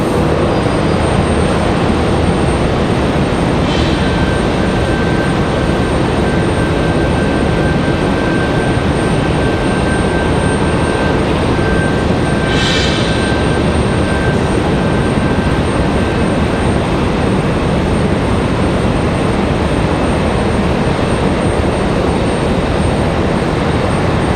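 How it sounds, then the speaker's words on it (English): Cirrus Vision Jet on approach to the runway at Raleigh-Durham International in stormy weather, a steady broadband roar that holds loud and even throughout, with rain or wind noise mixed in and no speech. "This Vision Jet's gonna come all the way down here."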